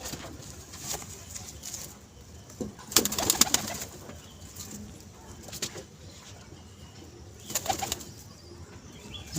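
Pigeons at a home loft coo softly at a distance, with a burst of wing flapping and scattered rustling in between. The sound stays fairly quiet throughout.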